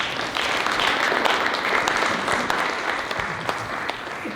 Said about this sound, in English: So I'll ask you all to give them a warm round of applause and welcome to the stage.